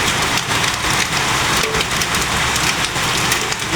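Steady hailstorm in Maseru, Lesotho, pelting surfaces with a dense, continuous rattle and hiss, loud and unbroken for the whole stretch, with no voices.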